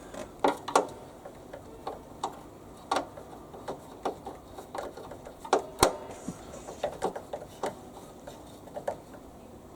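Spanner tightening a nut on a Hyundai petrol roller mower after roller replacement: a run of light, irregular metallic ticks and clicks, close and fairly quiet, with no talking.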